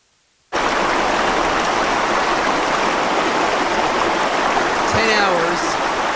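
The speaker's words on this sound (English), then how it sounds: "Hours of a river." A river runs in a steady, loud, unbroken rush of water that starts abruptly and fills the whole stretch, close and continuous, with a brief faint whistle-like tone near the end.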